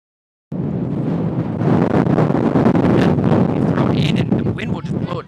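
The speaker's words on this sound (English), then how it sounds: "Wind will just blow it straight out, and Howard will get another throw-in" Wind roars across an open women's college soccer field, a steady loud rumbling buffeting the microphone for several seconds, with a commentator talking over it.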